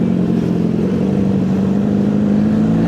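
Big-bike motorcycle engine drones loud and close in heavy rain, a steady low-pitched hum with slight rises in revs and no talking over it.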